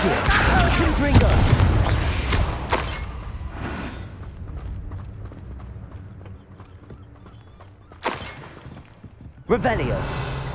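Confringo fire spell blasts in Hogwarts Legacy, with a loud burst of crackling, booming noise at the start and two more sharp blasts near the end. Quieter game sounds fill the gap between them.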